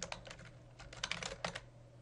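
Soft typing on a computer keyboard while filling in an online form, a few quick key clicks in short clusters over a low background hum.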